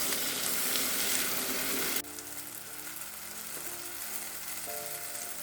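Onions and tomato fry in a pan for chickpea masala, giving a loud, dense sizzle that drops abruptly to a softer, steady frying crackle partway through.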